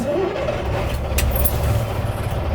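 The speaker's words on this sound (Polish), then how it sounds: "Samochód sobie chodzi." Heavy ÖAF 20320 6x6 truck with a V10 engine idling steadily, a deep continuous low rumble close by with faint hiss above and no talk.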